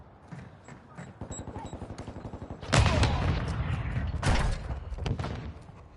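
Rapid automatic gunfire from the Modern Warfare 2 video game: a steady, fast rattle of shots, then heavier, louder bursts and booming impacts that keep up close and loud for several seconds.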